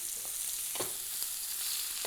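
Lamb lollipops fry in a pan, the fat sizzling in a steady hiss broken by a few sharp pops and crackles, close and alone with no talk.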